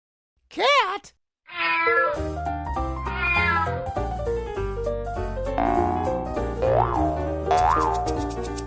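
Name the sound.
cat meowing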